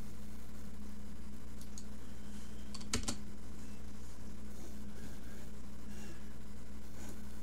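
Computer keyboard keys clack in a few scattered presses, one sharper cluster of taps standing out over a constant low electrical hum and fan noise.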